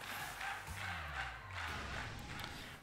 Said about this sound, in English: What's all this noise I'm hearing? This crowd's too loud.